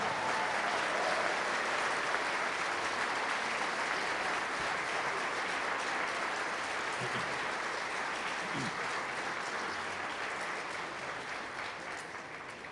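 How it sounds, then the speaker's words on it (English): Sustained crowd applause at a breakfast event, loud and dense from the start, gradually thinning toward the end. "let's give her a big round of applause."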